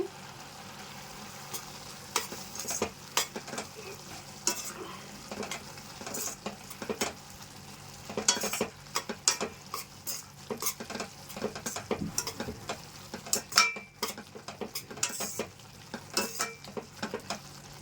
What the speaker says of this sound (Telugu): కొద్దిగా స్పూన్ వేసుకొని కలుపుకోవాలండి